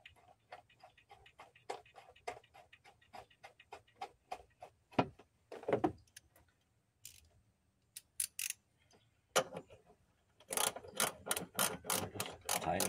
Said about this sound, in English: Tighten them all the way down until I get everything set.